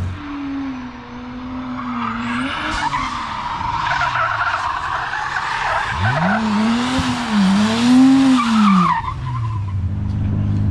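Car skidding on an icy track, its engine revving and pitching up and down while tires squeal and slide; loud and close, continuous for about ten seconds with no talk.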